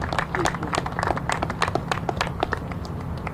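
Steady, dense applause from an audience at the Star Spangled Springfield announcement event in Springfield, a continuous patter of many hands clapping fairly close by.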